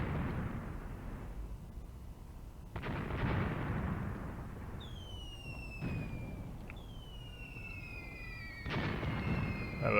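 Heavy artillery and gunfire rumble through a Graviteam Tactics battle, with broad booms landing at about 3, 6 and 9 seconds over a continuous low roar, while thin whistling tones sweep across the upper range.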